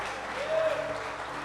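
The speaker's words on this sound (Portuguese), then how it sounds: "Dê uma forte salva de palmas para o Senhor" Church congregation applauding during a celebration worship service, a steady wash of clapping at moderate level with a faint sustained tone riding over it midway.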